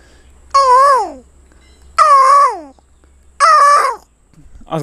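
A voice imitates the long call of a lone koel, giving three drawn-out, wavering whistled phrases with pauses between them, close and clear.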